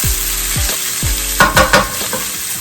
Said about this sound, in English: put that to like medium-high heat now. And let the onions cook a bit